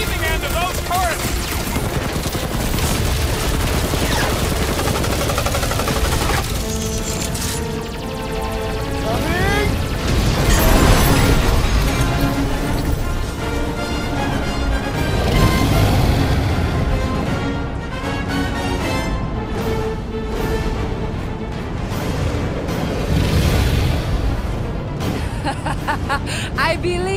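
Heavy turret gunfire and booming explosions rage almost continuously in a Guardians of the Galaxy action game, dense and loud with overlapping blasts, while game voices chatter faintly beneath the chaos.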